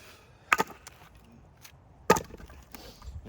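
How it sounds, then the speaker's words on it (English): An axe splits wood with two sharp, woody chops about a second and a half apart, close by and alone against quiet outdoor background. "the chippity chop of the wood is about all the noise I make"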